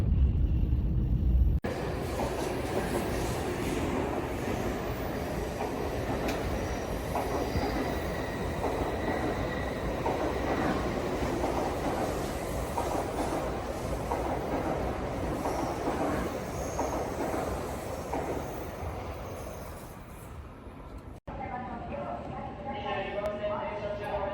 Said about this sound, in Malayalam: ഈ നിസോമിയാണ് ഏറ്റവും ഫാസ്റ്റസ്റ്റ് ട്രെയിൻ ഇൻ ജപ്പാൻ.